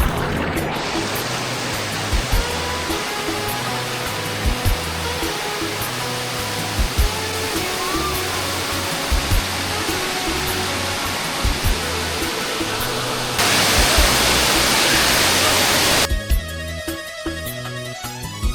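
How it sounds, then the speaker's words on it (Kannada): Ermayi Falls pours with a constant broadband roar of rushing water, steady and enveloping, growing slightly louder and harsher near the end without any speech. "ಇದು ಬಂದು ಎರ್ಮೈ ಫಾಲ್ಸ್."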